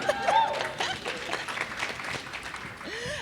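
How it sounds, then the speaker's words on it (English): A conference audience applauds steadily, a dense wash of many hands clapping at moderate loudness, with a few voices calling out over it. "Another round of applause."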